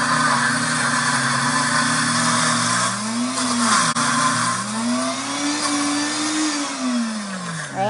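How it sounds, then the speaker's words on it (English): A blender whirs loudly and steadily while blending hot spinach and chickpeas, its motor pitch dipping and rising as the load shifts, with a continuous grinding roar filling the whole stretch. "It's actually funny because it's steaming inside the blender since the ingredients that went in were hot."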